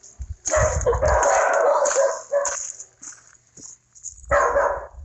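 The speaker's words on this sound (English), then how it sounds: "the neighbor's dog's barking will just set him off with the deep tone bark" A neighbor's dog barks in short bursts of loud, deep barks with yips and a whimper in between, close and alone with brief pauses between volleys.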